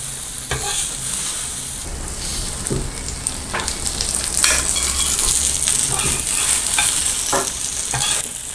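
Egg kalakki being stirred as it fries in a pan: a continuous sizzle with repeated scraping and clinking strokes of a utensil against the pan, close and fairly loud, no voices.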